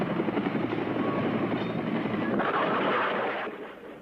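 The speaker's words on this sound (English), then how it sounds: "Most camera crews departed in the helicopters lifting off from the U.S. Embassy" Helicopters lifting off from the U.S. Embassy, a loud continuous rotor roar that swells and then fades toward the end.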